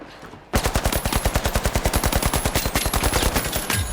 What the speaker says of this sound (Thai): มีคนยิงกันอยู่ข้างบนนะ